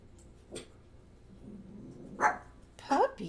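Dog barking in a home, a few separate sharp barks and yips a little way off, with quiet background sound between them.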